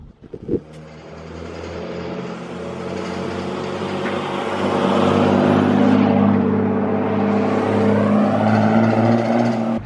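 A Jeep Wrangler with a straight-piped exhaust drives up and past, its deep, loud rumble swelling as it approaches after a short knock at the start, then holding a steady growl with a brief pitch dip.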